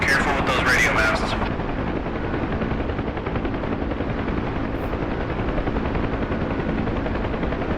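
A Huey helicopter in the DCS flight simulator thunders with a steady, loud rotor drone and dense turbine roar throughout, while a brief voice sounds at the start.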